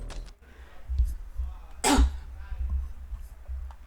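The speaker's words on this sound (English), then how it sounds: "I gotta cough again." A single sharp cough bursts out near the middle, loud and close, with faint room noise before and after.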